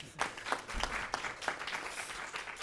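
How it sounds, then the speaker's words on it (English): A small audience applauds at a conference session, a brief patter of scattered hand claps at moderate distance and fairly low volume. "A round of applause."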